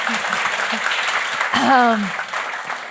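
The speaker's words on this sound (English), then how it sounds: "Give them an Thank applause" At an entrepreneurship award ceremony, applause rolls through the audience in a brief, moderately loud burst while a voice speaks over it partway through.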